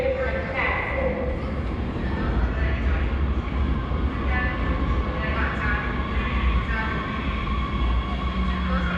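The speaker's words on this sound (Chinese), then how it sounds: "好，地铁来了。" A Hefei metro train pulls into a quiet station, its steady rumble and rolling roar filling the platform while a voice speaks over it.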